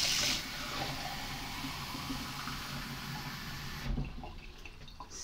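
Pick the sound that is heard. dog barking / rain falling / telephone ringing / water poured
water poured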